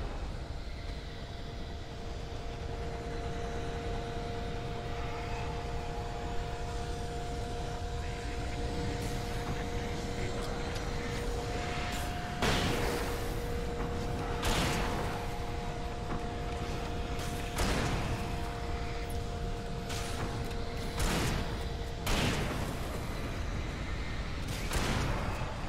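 A helicopter in Alan Wake Remastered spins up, a steady mechanical whine with two sustained tones over a dense rumble, joined later by a series of sharp repeated bursts and thumps.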